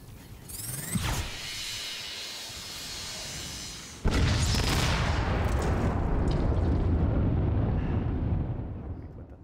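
Loud, dense weapon fire and explosions from the AR video game The Machines, a crackling barrage with a sharp booming blast partway through followed by sustained rumbling gunfire that fades at the end.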